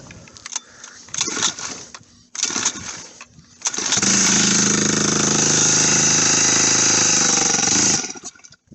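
A cold, untuned V3 turbo engine on full choke is cranked in several short bursts, then gives one longer, loud, continuous roar that cuts off abruptly near the end, close to the microphone.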